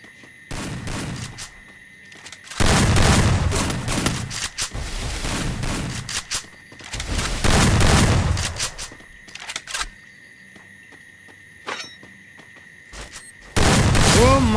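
Repeated bursts of gunfire in a video game custom match, loud sustained volleys separated by short pauses, with a commentator's voice audible between bursts.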